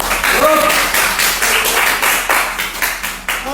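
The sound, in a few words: applause for a student group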